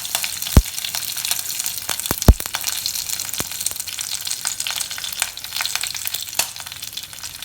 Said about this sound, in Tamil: ஃபைனலாக வரமிளகா உள்ளே போட்டுட்டு கருவேப்பிலை